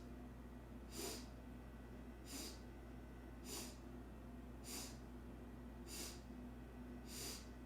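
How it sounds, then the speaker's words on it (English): A person takes short, sharp sniffs in through the nose during a yoga breathing practice: six quick, evenly spaced bursts about a second apart, close and fairly quiet over a low steady hum. "So starting with 7 sniffs in the nose."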